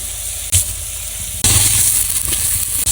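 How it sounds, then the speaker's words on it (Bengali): Lentils, papaya and tomato tipped into a hot pan of oil, loud close sizzling that swells sharply as each batch lands, with a few brief clatters and no voices. "এবার ডাল দিয়ে দিব ডাল দিয়ে দিলাম পেঁপে দিয়ে দিলাম টমেটো দিয়ে দিলাম"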